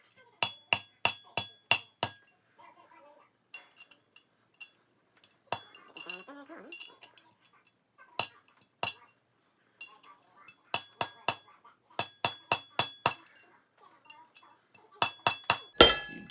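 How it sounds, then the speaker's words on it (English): A pilot bearing being tapped into its seat with a hammer, heard as sharp metallic clinks in quick bursts of four to six strikes, separated by pauses with faint handling noise, loud and close. "Go ahead, just give it a couple of taps."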